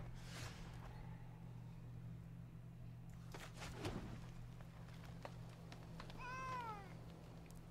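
A cat meows in a few short rising calls near the end, faint against steady low hum and quiet room noise.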